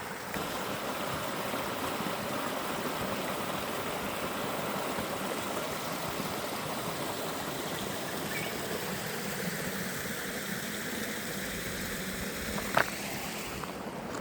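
Small creek on a bush trail flows steadily, with a broad, continuous rushing wash close by that holds an even level throughout, broken only by one brief click near the end.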